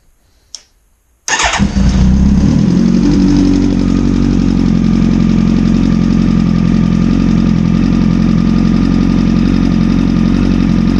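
A 2009 Kawasaki ZX-10R, back running after a blown engine, fires up after a short click and settles into a loud, steady, close idle with a throbbing rumble.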